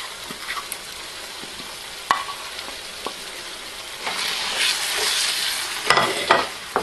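A spoon stirs a mixture of lemon juice, spices and yogurt, making soft scrapes and occasional clacks against the vessel, then a louder wet, hissing churn toward the end, with no one speaking.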